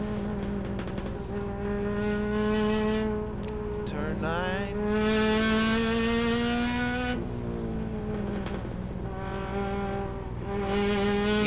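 A touring race car at Laguna Seca screams through the corkscrew with wheel spin, its engine note rising and falling in loud harmonic sweeps as the driver lifts and reapplies throttle, with a brief gear change midway.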